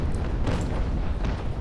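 Ship cannons fire in Naval Action, heavy booming blasts rolling together into a dense, loud rumble with a few sharper cracks, close and unbroken, with no voices.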